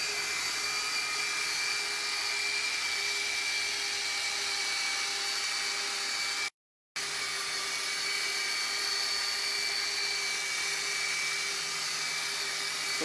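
A machine polisher buffs with polish loaded on its pad, a steady, even electric whine with a constant hum that runs unbroken apart from a brief cut in the middle.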